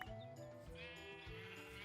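Sheep bleat in modded Minecraft, a wavering, nasal baa that swells in repeated pulses, clear and close against a quiet background.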